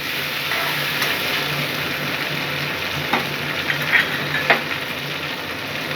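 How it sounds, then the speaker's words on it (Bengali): Ground white and black mustard paste frying in a pan for a Bengali hilsa dish, a steady close sizzle with a few light scrapes of stirring near the end, no voices. "সাদা সর্ষে কালো সর্ষে একসাথে আমি বেটে রেখেছি। দিয়ে আমি একটু নাড়াচাড়া করি।"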